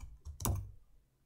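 Fingers typing on a computer keyboard, a few quick soft clicks with one firmer keystroke, close and quiet, with no voice.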